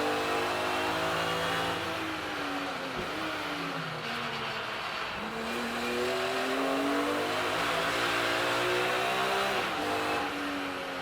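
A BMW race car engine revs hard through the gears on the Snetterton circuit during a Kumho BMW Championship race, a loud continuous onboard roar with rising and falling pitch as it shifts and brakes.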